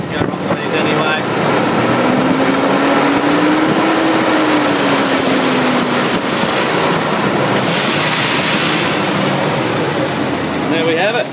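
A steady car engine idle, running a bit high, drones on with a low hum and a faint rising-falling tone, wind buffeting the microphone throughout.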